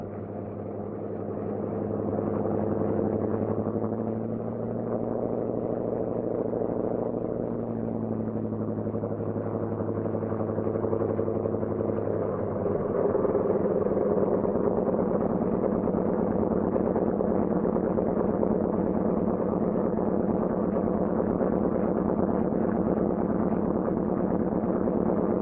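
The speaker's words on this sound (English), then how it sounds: "we've got to start the other engine before we can taxi" A C-47 Skytrain aircraft engine runs in a loud, steady, close drone. Its low throbbing tone shifts partway through as the revs settle into a fuller, rougher roar.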